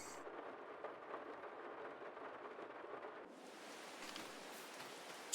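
Steady rain in the farming video game Farming Simulator, a continuous broadband hiss that thickens and brightens partway through, with occasional low rumbles underneath and no voices.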